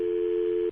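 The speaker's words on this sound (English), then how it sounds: "Dial tone." A telephone dial tone sounds as one steady, loud, unbroken pitch that cuts off abruptly near the end, with nothing else heard.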